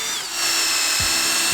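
A power drill runs steadily and close by, driving bolts to fasten an overland tire carrier onto a Porsche; the motor note holds and dips slightly partway through.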